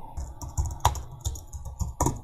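Clear, close typing on a computer keyboard while text is entered into an Adobe XD design layout, steady individual keystrokes in an uneven rhythm with one sharper clack, no voices.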